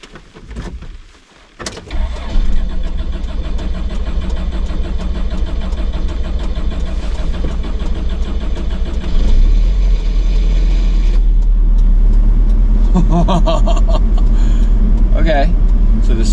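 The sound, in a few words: van engine starting, then pressing the gas to rev it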